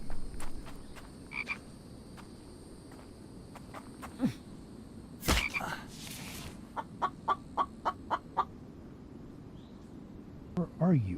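A chicken in the survival video game The Infected gives repeated short clucks and croaky calls in a steady run of spaced notes, moderately close, against a faint ambient hum with a brief louder rustle midway.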